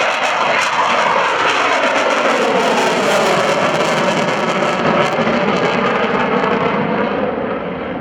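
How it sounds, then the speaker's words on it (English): An F/A-18C Hornet jet roars at full throttle while going around after a touch and go at an airshow at NAS Oceana. The loud, steady, broadband roar fades slightly at the end. "the pilot will shove the throttles forward to give him or her the power to go around and try to catch it again"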